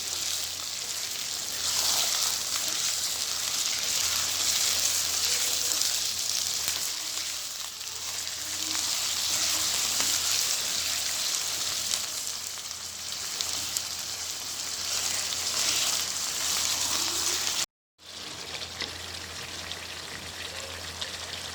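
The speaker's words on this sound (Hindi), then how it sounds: "इसको हमने तकरीबन 8 से 10 मिनट के लिए ऐसे ही भूनना है" Chicken and potato pieces sizzle steadily in a pan for aloo gosht, a dense, continuous frying hiss like light rain, close and loud, cutting out briefly near the end before resuming, with no talking.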